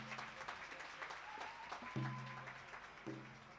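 A church congregation applauds and acclaims during a thanksgiving celebration, steady crowd clapping mixed with voices and a sustained tonal note, moderately distant.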